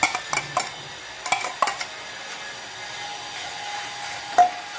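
A spoon stirring thick milk into carrot kheer in a pot, with a few close clinks and scrapes against the metal early on, then a quiet simmer and one last tap.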